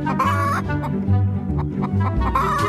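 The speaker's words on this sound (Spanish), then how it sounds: "fredo, que lo trajimos importado desde Cuba, nos va a enseñar su colección de gallinas" A backyard collection of chickens clucks loudly and continuously, with busy overlapping calls and bursts close to the listener, along with some low rumbling noise and no clear speech.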